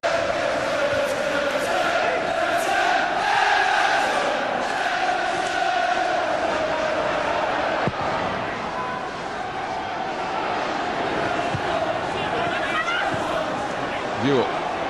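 Stadium crowd at Selhurst Park during a Wimbledon versus Everton football match, applauding and murmuring after the opening goal, a broad roar heard under steady commentary.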